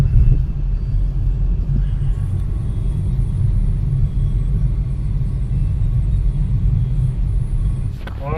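Steady low rumble of busy road traffic in Pune, cars and engines droning close and continuous for the whole stretch, with a faint brief hiss near the end.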